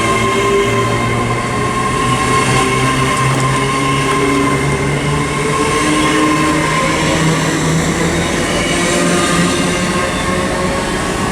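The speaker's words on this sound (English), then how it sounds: "800-015 heading out from Worcester Foregate Street to London Paddington" A Class 800 train, unit 800-015, heading out from Worcester Foregate Street toward London Paddington on the Great Western Main Line, rumbles past loud and close. A steady engine drone and rolling hum carry through without a break, and no one speaks.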